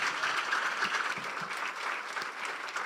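Congregation at an apostolic church service clapping loudly and continuously, a dense, even burst of many hands applauding together for a few seconds.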